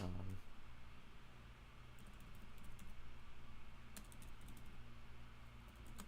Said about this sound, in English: so while Red's typing, I'll type the question out for brii